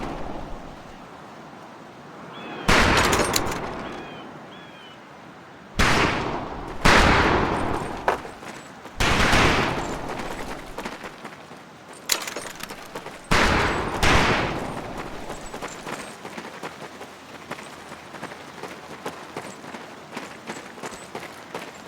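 Rifle volleys at a training range in Medal of Honor: Pacific Assault, several loud bursts of gunfire separated by short pauses, followed by scattered fainter shots over steady background noise.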